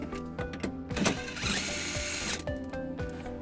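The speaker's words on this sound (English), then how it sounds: "It's held in by one bolt that we'll remove using a 10 millimeter socket." A 10 mm socket on a power drill driving out the single bolt holding a cargo hook in a 2012 Honda CR-V, a close whirring run with a brief pitch change, a sustained spin mid-clip and ratcheting ticks.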